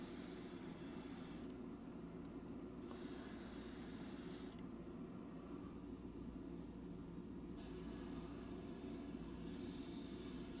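Airbrush with a 0.5 mm needle at 18 to 20 psi sprays paint onto a 1971 Revell Mustang Mach 1 model kit, a close airy hiss in two bursts over a constant compressor hum.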